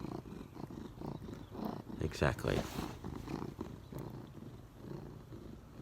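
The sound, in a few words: cat purring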